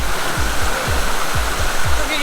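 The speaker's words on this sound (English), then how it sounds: "going to the waterfall." Veliki Buk waterfall in Serbia sends a steady, loud broadband roar of rushing water, continuous and close, with low thumps from footsteps or wind under it.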